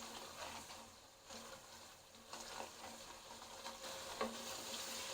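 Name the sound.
spices frying with onions in a pan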